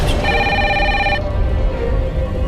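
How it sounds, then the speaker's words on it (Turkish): A telephone rings in a Turkish-dubbed drama, a loud electronic trill that sounds for about a second before fading into a steady background hum, with no voices. "Telefon çalıyor."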